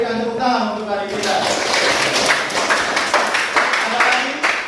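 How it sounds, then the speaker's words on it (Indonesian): Students in a classroom break into brisk clapping that fills most of the moment, following a teacher's brief speech at the start. "Kita berikan tepuk tangan untuk hari kita."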